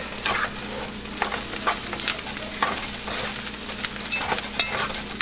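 Bacon sautéing with garlic and butter in a pan while being stirred for fried rice, a steady close sizzle with repeated scraping and stirring strokes throughout.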